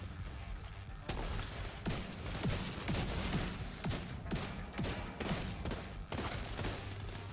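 Gunfire in The Division 2 video game comes as a steady run of sharp reports at moderate distance. The shots keep up a rough rhythm against a dense, noisy backdrop.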